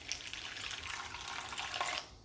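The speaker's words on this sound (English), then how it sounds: "Then I'm going to add the water down here." Water poured into a bowl of Jamaican festival dough, a steady soft splashing trickle that lasts about two seconds, then stops abruptly.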